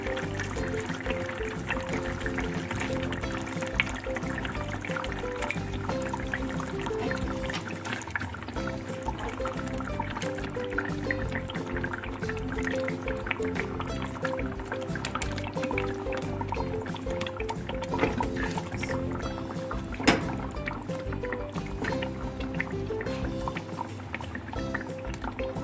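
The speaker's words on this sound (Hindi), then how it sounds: "अब मैं इसमें कोफ्ते डाल दूँगी।" Koftas lowered into simmering masala gravy of tomato paste and yogurt, a busy stream of soft bubbling, dripping and liquid sloshing at moderate level, with one small splash near the end.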